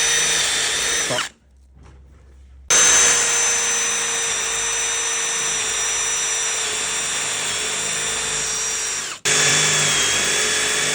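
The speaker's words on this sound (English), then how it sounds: "we'll use a step drill." A power drill with a step bit runs loud and close in long sustained bursts through the metal of a coffee vending machine, pausing briefly between runs.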